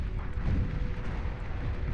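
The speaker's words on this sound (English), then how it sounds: "Scorpion turret firing away here." A Scorpion turret in the game Beyond All Reason fires during an 8v8 deathmatch, giving a steady, dense rumbling barrage of booming shots with no pause.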